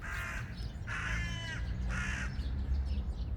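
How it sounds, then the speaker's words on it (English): Crows perched in a dead tree give three loud, harsh caws at roughly even intervals, outdoors with a faint low background rumble and no talking. "Some crows up there making a lot of noise."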